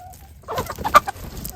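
Chickens being mixed into a new flock cluck and squawk in a short, busy cluster of close, moderately loud calls after a quiet start, with no talking.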